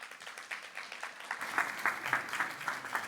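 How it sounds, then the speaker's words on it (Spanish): Audience applause at the opening of an annual research, creation and innovation meeting, a continuous patter of many hands clapping that swells louder midway, heard from a distance in a hall. "La recibimos con un fuerte aplauso."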